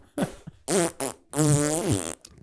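A voices an imitation of a fart, delivering several blurting, ranty bursts in quick succession, loud and close with short gaps between them.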